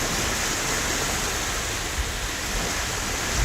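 Surf rolling onto Hakampo beach in Taean, Korea, a steady, unbroken wash of breaking waves heard alone without any voices.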